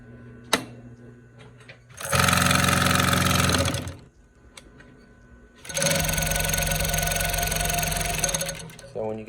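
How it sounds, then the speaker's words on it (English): An H-315 sewing machine runs in two sustained bursts of steady mechanical whirring, loud and close, with short pauses and a few clicks between runs. "up for auction is the H-315 sewing machine"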